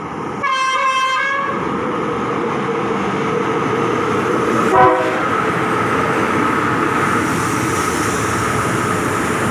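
A train horn blasts loudly near the start, followed by a heavy continuous rumble of a passing express train and a brief second tonal toot midway.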